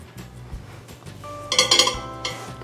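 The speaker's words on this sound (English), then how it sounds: "the first thing we need to do is keep this short rack inside the oven" A short metal rack is set inside a convection microwave oven, giving a few close metallic clinks and rattles in a short burst, with quieter knocks before and after.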